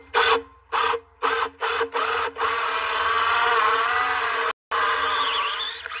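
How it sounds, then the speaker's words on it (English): A power drill grinds steadily through a metal gutter after several short stop-start bursts, a high whining rasp that cuts out briefly near the end before resuming. "So we're going to drill a downspout hole."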